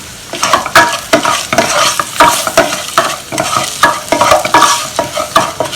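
Coriander and turmeric powder being stirred into a sizzling pan for an Onam sambar-kit curry, with a steady run of close scraping spoon strokes over continuous frying hiss, no talking.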